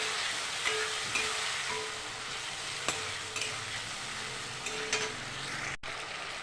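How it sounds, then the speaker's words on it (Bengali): Fried potatoes with onion, garlic, red chili paste and ginger are stirred in a pan: a constant hissing sizzle with occasional scraping clicks of the spoon against the pan, close and unaccompanied by talk. "সামান্য একটু নাড়াচাড়া দিয়ে নিচ্ছি"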